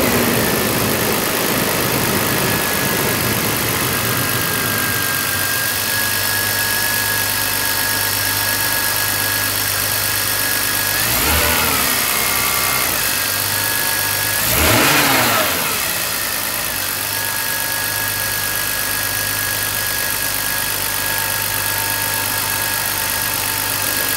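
BMW E39 engine running steadily at idle after engine repair, with two short rev blips rising and falling partway through; loud, close and continuous.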